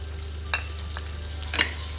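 Prawns dropped into a pan of softened onions frying in oil, with a steady low sizzle and a few brief clinks and stirs, close and fairly quiet.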